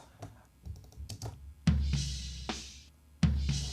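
Several sharp clicks, then louder, heavier key presses with a hollow ring, close by and with no talking.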